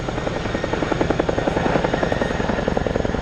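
An RAF Chinook twin-rotor helicopter flies a display at the Cosford Airshow 2023, its steady rhythmic rotor thump pulsing loudly throughout.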